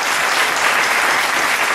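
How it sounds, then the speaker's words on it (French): Steady, dense applause from a crowd, loud and sustained throughout with no pauses or voices standing out. "J'aimerais bien qu'on l'applaudisse très fort pendant qu'il arrive."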